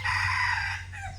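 An F1 hybrid jungle fowl rooster crows once, loud and close, its call held steady for about a second before tailing off. No one speaks over it.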